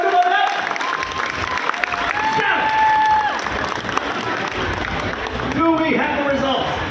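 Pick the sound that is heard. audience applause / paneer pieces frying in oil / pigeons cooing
audience applause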